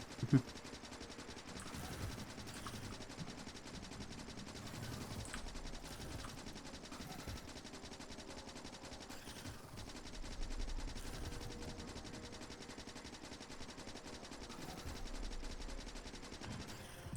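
In the Factorio video game, automatic gunfire rattles on continuously as a rapid, even stream of faint shots, with slight swells in loudness and no pauses.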